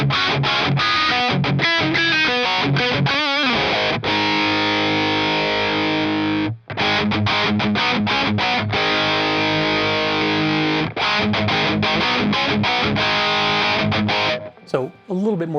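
Electric guitar played through a TDSFX Sekhmet overdrive pedal on its clean boost setting, a loud, sustained, slightly driven tone with strummed chords and brief gaps, pushing the amp.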